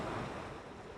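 Ocean waves and wind rush around a sailboat crossing the Atlantic in a moderate sea. A broad, steady wash of surf and wind noise fills the scene, fairly close, with no talking.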